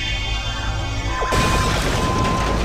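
A bomb goes off in the space-station management game Startopia. A low ambient hum gives way to a sudden loud burst halfway through, followed by a crackling, rumbling wash of debris.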